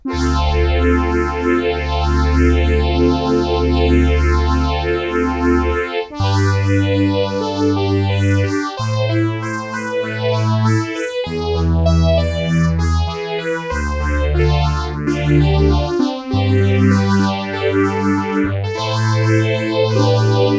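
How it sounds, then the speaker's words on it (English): A sustained DSI/Oberheim OB-6 synthesizer chord progression swirling with two Oberheim-style phaser effects moving at different speeds, loud and alone, changing chords every couple of seconds. "I love having two different phasers at two different speeds."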